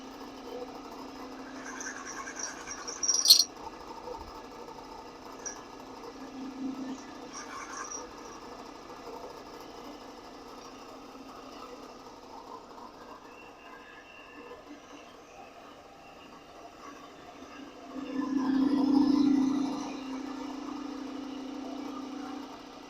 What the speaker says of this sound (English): Open up the hole with the drill bit and then go after it with a Forstner.